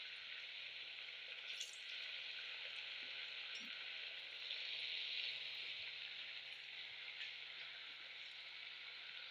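Sweet potato dough frying in hot oil makes a steady, even hiss of sizzling bubbles that runs unbroken and fairly quiet, with no voices.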